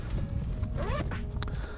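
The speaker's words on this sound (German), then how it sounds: "Das große Hauptfach lässt sich auch über so einen Doppelweg-Reißverschluss öffnen." A two-way zipper slides open along the main compartment of a backpack, several quick rasping pulls close to the microphone over a low background hum.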